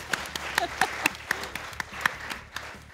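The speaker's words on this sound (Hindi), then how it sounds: "तालियां बजाओ फवाद आलम के लिए।" A studio audience on a cricket-themed game show claps steadily, a dense wash of applause with sharp individual claps standing out, while a voice speaks faintly underneath.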